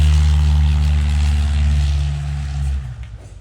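A propeller airplane with a tailwheel roars loudly through its takeoff roll at a nearby airfield, a steady deep engine and prop drone that eases off toward the end, with no talk over it.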